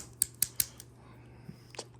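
Spring-loaded big scissors on a multitool snap open with three quick, sharp metallic clicks close by, followed by a couple of fainter clicks and a soft rattle over a low steady hum.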